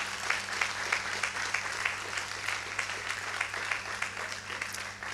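A church congregation at a French-language worship service claps together, soft and rhythmic, with a faint low hum running steadily beneath the applause.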